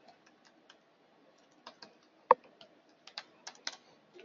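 Typing on a computer keyboard comes through as sparse, soft key clicks, scattered singly and in short bursts with one sharper tap, close and alone in a quiet room.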